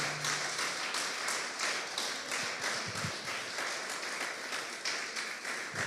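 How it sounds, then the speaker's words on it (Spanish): Congregation applauding at an evening church service, a steady wash of clapping across the whole stretch with a faint low hum underneath and no talk. "¿Cuántos le dan un aplauso al Señor?"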